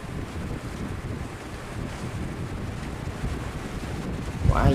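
A boat speeds out to sea over choppy waves, its engine roar buried in heavy wind buffeting and rushing water, with a louder thump of a wave strike near the end.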